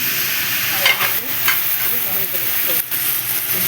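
Hot water hits softened vegetables cooking for Bengali shukto, setting off a loud, steady hiss of sizzling steam, close up, broken by a few brief stirring scrapes, with no talking.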